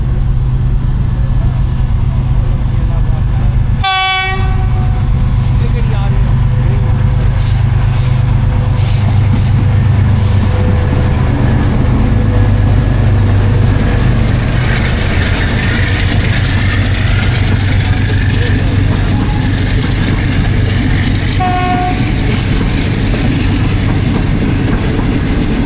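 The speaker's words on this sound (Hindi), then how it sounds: "अब ग्रीन लाइन ओवरटेक कर रही है डबल ट्रेन को, मिलत एक्सप्रेस और पाकिस्तान एक्सप्रेस को" Green Line Express train overtaking the Millat Express and Pakistan Express, heard from on board: a steady loud rumble of wheels and carriages throughout, with a brief horn blast near the start and a fainter horn later.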